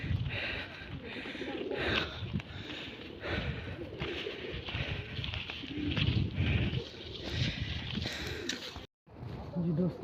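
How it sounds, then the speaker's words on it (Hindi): Pigeons coo high up on Jabal Noor near Ghar Hira in Mecca. The soft, throaty calls come through steady outdoor noise and murmuring voices, and there is a brief dropout near the end. "ये देखिए कबूतर माशाल्लाह"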